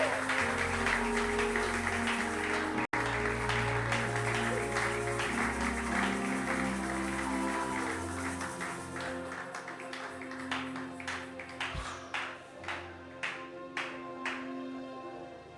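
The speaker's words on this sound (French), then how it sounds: "Acclamons pour Jésus très fort." A church congregation at a fasting-and-prayer service breaks into sustained dense applause, which thins out into a handful of loud, separate claps at the end.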